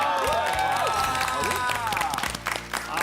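Studio audience at a Korean variety show clapping and cheering before a song, loud and close, with overlapping voices and some musical tones mixed in beneath the applause.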